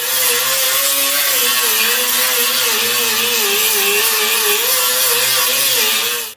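A power tool cuts through a factory metal seam on a car body panel with a loud, continuous high-pitched whine and grinding rasp that wavers slightly in pitch and stops abruptly at the end.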